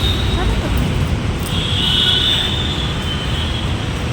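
A metro train passes close to a station in a busy city, its steady rumble filling the scene while a brief high wheel squeal rises midway, all over constant street noise.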